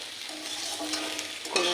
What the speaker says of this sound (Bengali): আজকে একটু ভাজা করে নিলাম